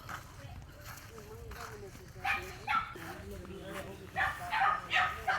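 Dogs greet arrivals with several short barks and yips at a moderate distance, rising in bursts near the end while a person talks over them and footsteps move along a rural path.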